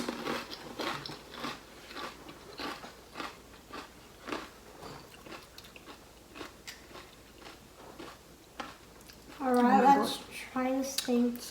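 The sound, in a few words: eating crunchy pani puri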